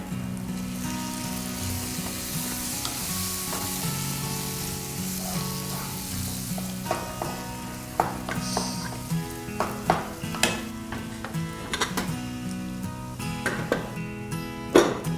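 Sautéed ridge gourd tossed into a hot pan sizzles steadily while a spoon scrapes and clinks against the metal in growing, irregular knocks toward the end, close and moderately loud.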